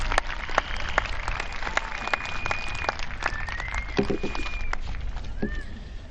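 Steady clapping from a crowd at a high school commencement, a dense patter of many hands filling the whole stretch at an even, moderate loudness.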